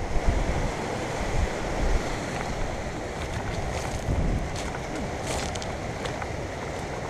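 Sea surf washes onto the shore in a steady, moderately faint roar, mixed with wind buffeting the microphone at the end of a day of sea fishing.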